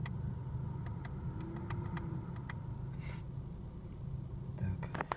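A VAG 1.8T AWT engine idling steadily, with faint ticking and crackling knocks sounding over a constant low engine drone.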